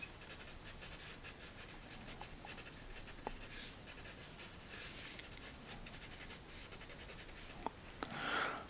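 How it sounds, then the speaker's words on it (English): The side of a pencil shades across paper while drawing a tree stump, making close, quiet, scratchy strokes repeated in quick, uneven rhythm with brief pauses. "Sometimes I'll use the side of my pencil here."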